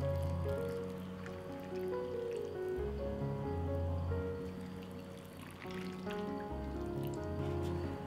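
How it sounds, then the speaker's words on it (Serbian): Water is poured into glass jars one after another, with each fill giving a soft, close gurgling splash whose pitch climbs as the jar fills. The pouring is fairly quiet and no one talks. "I sada u svaku teglu sipam vodu."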